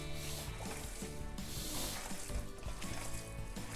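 Raw meatloaf mixture squished and mixed by hand, giving steady wet squelching and rubbing sounds close by, with soft rhythmic squishes throughout and no talking.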